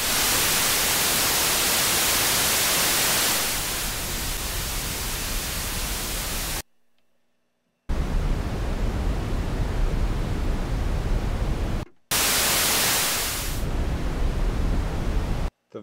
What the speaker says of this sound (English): The noise generator.